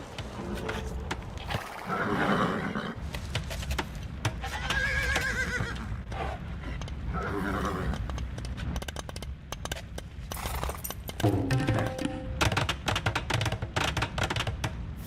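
Scythian horses in Age of Empires II neigh and whinny in several loud, shrill calls, with hooves clopping and game ambience underneath, close and prominent throughout.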